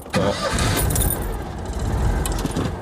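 A Citroën 2CV's small engine cranks and catches, then runs on in a quick, buzzy idle close by, with a few light clanks and no voices.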